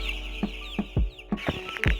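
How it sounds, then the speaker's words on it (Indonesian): Eight-day-old MB202 Platinum broiler chicks give short, separate clucking calls in an irregular rhythm, about half a dozen over two seconds, close and moderately loud against a steady low hum, with no talking. "Ini adalah ayam usia 8 hari dengan DOC adalah MB202 Platinum."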